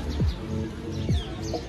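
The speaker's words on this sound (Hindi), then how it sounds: "कितना प्यारा चिड़ियों का चहचहाट है ये देख सकते हैं वहाँ पे तोता है तोताओं का पूरा ग्रुप है" Birds chirp around Akbar Fort in Prayagraj, where a flock of parrots gathers; faint tweets and calls sit over steady background noise, with a couple of low thumps in between.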